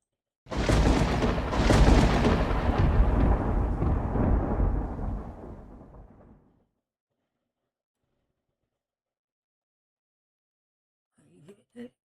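A thunder and lightning effect from the MuviToon Studio weather system: a loud, close rumbling thunder roll that starts abruptly, swells and slowly fades over several seconds, then silence before a brief faint crackle near the end.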